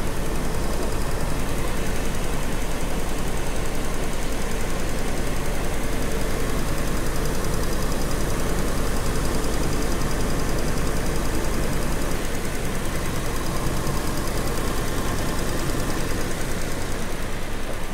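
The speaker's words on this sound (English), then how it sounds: "I feel like there's maybe a slight misfire" Jaguar XJ6 engine idling with a slight misfire, a steady low rumble with faint uneven knocking, close and continuous for the whole stretch, no voices.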